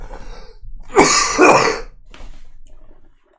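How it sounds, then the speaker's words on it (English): Two close, harsh coughs in quick succession, followed by a softer raspy breath as they trail off. "This cough is not going away."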